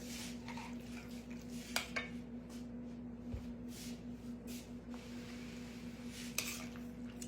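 Sautéed onions, butter and sour cream are mixed in a bowl for an onion casserole, with faint close spoon clinks against the dish and soft squishy stirring under a low background hum.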